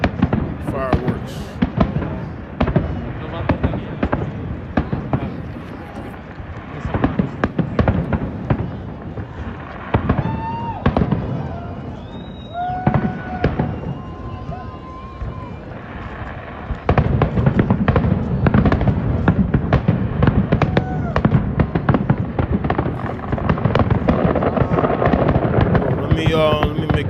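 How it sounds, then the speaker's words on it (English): New Year's fireworks burst in a dense, continuous barrage of crackles and booms, with faint whistles rising through the middle. The volley swells louder toward the end while people talk underneath. "Fireworks."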